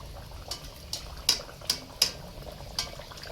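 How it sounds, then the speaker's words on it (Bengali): Puri dough drops into hot oil to fry. A low background hiss is broken by about six sharp, spaced crackling pops with no one talking. "ফাইনালি আমরা তেলের মধ্যে পুরি ছাড়লাম।"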